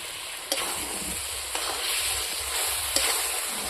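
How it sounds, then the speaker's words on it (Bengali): Ground spices with turmeric, salt and chili powder fry in a pan with a constant sizzle, broken by a few sharp scrapes of a spoon stirring the mixture. No voices. "ভালো করে মশলাটাকে কষিয়ে নেব।"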